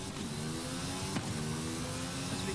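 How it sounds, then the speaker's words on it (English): A high-pitched Mercedes with a Formula 1 engine whines steadily in the game Forza Horizon 5, holding a sustained tone with a brief sharp shift partway through, loud and close. "the engine in this Mercedes is from an F1 car, so obviously it would sound like an F1 car"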